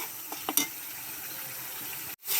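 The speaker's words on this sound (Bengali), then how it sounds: "এখন আমি মশলাটা কষিয়ে নেব" Masala paste of ground cumin and green chilli frying in a pan for a beef curry, a steady soft sizzle with a few light stirring clicks near the start, heard alone and close.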